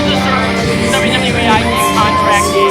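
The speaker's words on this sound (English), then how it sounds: "Listen to this crowd." A wrestling show crowd cheers and shouts loudly throughout, a dense continuous roar of whoops and yells close around.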